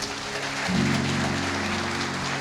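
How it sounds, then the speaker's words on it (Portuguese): A church congregation applauds steadily, a dense, rain-like wash of many hands clapping at once over a low sustained organ or keyboard tone. "Vamos aplaudir o nome dele?"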